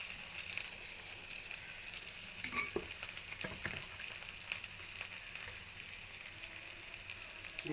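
Small shallots and finely crushed green chili fry in a pan over low heat, a steady close sizzle with faint stirring scrapes and light crackles throughout.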